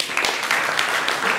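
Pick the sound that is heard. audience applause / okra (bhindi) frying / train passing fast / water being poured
audience applause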